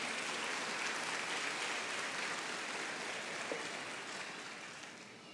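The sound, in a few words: church congregation applauding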